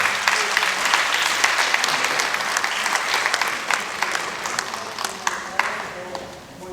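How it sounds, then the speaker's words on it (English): Sustained applause from the audience at a school board meeting, a steady wash of many hands clapping close by, thinning a little toward the end. "Please give him a big round of applause"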